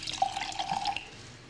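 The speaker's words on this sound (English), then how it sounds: "pour a little wine" White wine pours into a glass in a short, gentle trickle, a soft gurgling splash close by that fades out after about a second.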